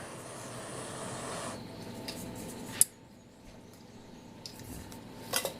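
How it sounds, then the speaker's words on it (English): A metal camping cook pot is set onto a lit portable stove, giving one sharp clank over a steady burner hiss, followed by a few softer metallic taps near the end. "And then my cook pot sits on there."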